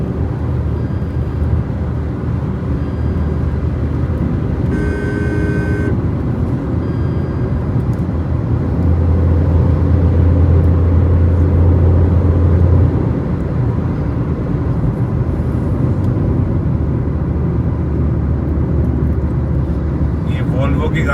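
A Volvo vehicle drives past on a highway during a road trip from Delhi to Haridwar. A loud, steady rumble of road and engine noise runs throughout, with a brief whine near the five-second mark.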